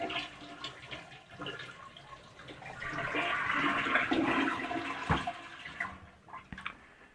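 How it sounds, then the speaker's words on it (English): A toilet flushes in a home bathroom after the water supply has been shut off, a loud rushing swirl that builds through the middle and then drains away, with no talk over it. "And then you want to flush it."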